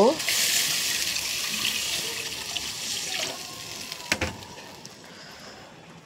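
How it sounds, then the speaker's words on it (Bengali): Broth pours steadily into a curry in a pan, a continuous splashing, hissing stream of liquid heard up close, tapering off with a couple of clinks near the end. "এখন আমি ঝোল পরিমাণ মতো দিয়ে দিচ্ছি"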